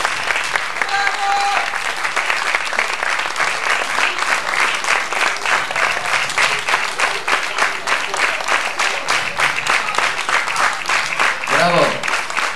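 Sustained, dense applause from a theatre audience at a 1998 festival award ceremony, loud and steady throughout, with a voice briefly rising over the clapping near the end.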